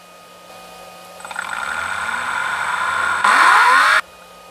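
An R1 V21 motor, likely a small electric RC car motor, runs an acceleration test sequence, giving a steady rising whine that climbs in pitch, swells louder near the end, then cuts off abruptly.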